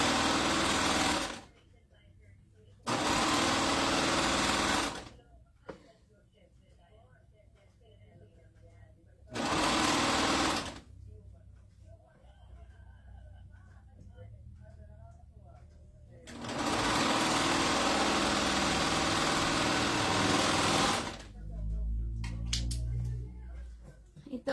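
A slow-running sewing machine stitching a dance costume runs in several bursts of steady, loud mechanical whirring, separated by pauses with quieter background noise and some low rumbling near the end.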